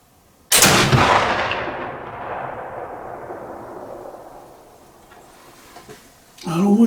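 A single loud, close shot from a Kibler fowler flintlock gun, a sharp blast followed by a long rolling echo that slowly fades outdoors.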